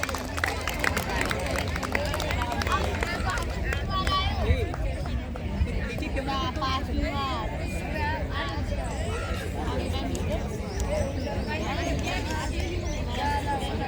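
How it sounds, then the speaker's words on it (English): Dense, steady applause from the audience for teachers at a National Science Day prize ceremony at the Institute for Plasma Research, Gandhinagar, filling the whole stretch with a crowd murmuring and talking over it. "Big round of applause for your teachers."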